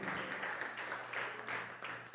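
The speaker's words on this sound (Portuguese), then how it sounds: "Aplauda ao Senhor, amém?" A church congregation claps together in worship, a dense, steady patter of many hands kept up for about two seconds at a moderate distance, with no one speaking over it.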